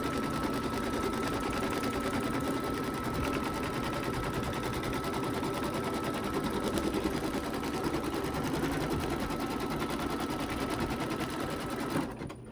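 A home embroidery machine stitches fabric down onto a personalized baby bib, giving a steady, fast mechanical needle chatter that runs loud and unbroken for the whole stretch, with no talking.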